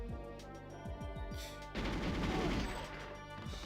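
Gunfire in GoldenEye 007: a rapid string of sharp repeated shots in short bursts, followed by a dense, crackling sustained volley, loud and continuous over a steady background score.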